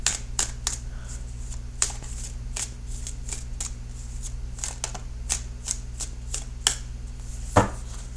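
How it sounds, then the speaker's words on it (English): Cards are shuffled in quick, crisp bursts of riffling, repeated at irregular intervals against a faint steady hum. "So I will shuffle the cards for just a few more seconds"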